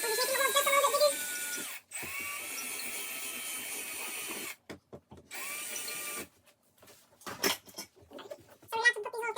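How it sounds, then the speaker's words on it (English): A power drill bores holes into a wall during a fire alarm system upgrade, whirring in sustained bursts with pitch changes, then stopping and starting in short stuttering pulses near the end, while people speak briefly. "We're about to drill in."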